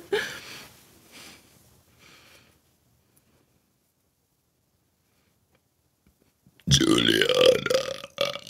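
A person lets out a long, loud, croaking burp up close after a stretch of silence, preceded by some faint vocal sounds at the start.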